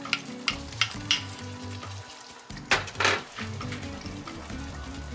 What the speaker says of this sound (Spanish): Como ven, ya comenzó a hervir.